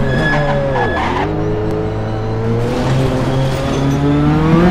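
A car in a racing video game accelerates hard on full turbo, its engine note rising in a loud, steady drone with a brief dip before climbing again, no talk over it.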